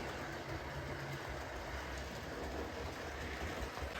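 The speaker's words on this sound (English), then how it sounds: "this train has come on the other track, it didn't cross over, it was already there" A model train rumbles steadily along the track at a distance, a low continuous roar with faint rhythmic clatter and no voices.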